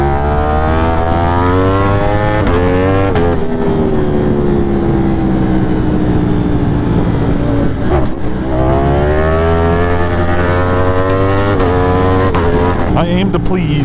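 Ducati motorcycle cruising in fifth gear past roadside kids, a close, loud, steady engine drone whose pitch swells and sags, with constant wind rush.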